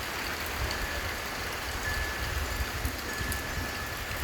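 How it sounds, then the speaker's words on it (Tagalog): Heavy rain pours steadily as a typhoon approaches in Rizal, a dense continuous hiss with a low rumble of wind beneath and no talking. "lumalakas na ang ulan."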